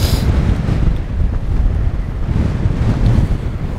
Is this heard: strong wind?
yes